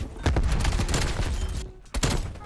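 Rapid bursts from a KSP 45 submachine gun in Black Ops Cold War, sharp close-range shots fired in quick clusters with a brief pause before a final burst, heard over game noise.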